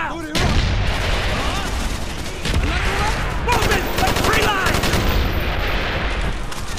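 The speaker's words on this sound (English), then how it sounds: "Those are our own mortars!" Mortar fire and rattling gunfire fill a Call of Duty: Black Ops battle, dense and continuous, with booms under shouted voices.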